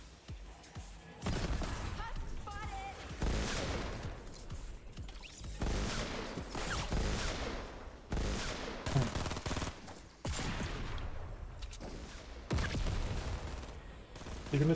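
Rapid sniper and automatic gunfire from the video game Fortnite, loud bursts of shots and crackling volleys arriving in dense clusters, with short gaps between them and some mechanical clatter underneath.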